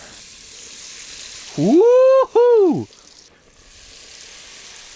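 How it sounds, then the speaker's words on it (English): Wild Eucumbene trout fish burgers deep-frying at a wintry lakeside camp: a steady, hissing sizzle that runs throughout, briefly drowned by a loud, close whooping shout. "Deep frying at camp."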